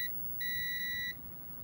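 A small electronic beep from test equipment probing a Tron arcade circuit board: one steady high tone lasting under a second with a tiny dip in the middle, clear over a faint low background hum.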